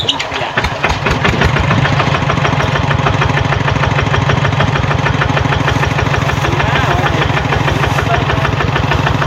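A tractor engine idles close and loud, its steady rapid chugging pulse running unbroken for the whole stretch.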